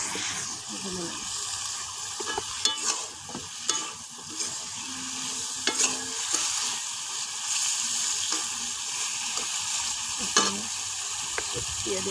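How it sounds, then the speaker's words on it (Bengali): Steady oil sizzle of fish frying crisp in a pan, with occasional clinks and stirring sounds; faint voices now and then in the background. "মাছগুলা খুব কড়া করে ভেজে নিছে"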